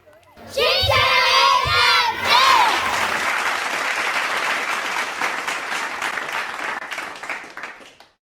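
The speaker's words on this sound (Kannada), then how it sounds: "ದಯವಿಟ್ಟು ಜೋರಾದ ಚಪ್ಪಾಳೆ ಮೂಲಕ ನಮ್ಮ ಮಕ್ಕಳಿಗೆ ಎನ್ಕರೇಜ್ ಮಾಡಬೇಕು" A school annual day audience applauds loudly after a children's skit, with a burst of shouting and cheering from children at the start, then steady, sustained clapping that fades out.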